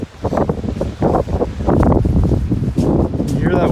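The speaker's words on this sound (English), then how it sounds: "You hear that wind?" Stormy wind buffets the microphone in uneven, loud gusts on a rainy day, with rustling noise between the gusts.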